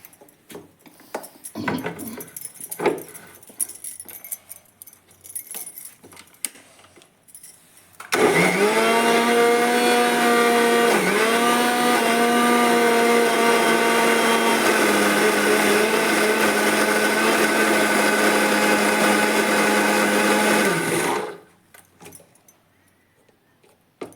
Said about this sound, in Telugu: ఇప్పుడు దీన్ని నేను మిక్సీ చేసుకుంటాను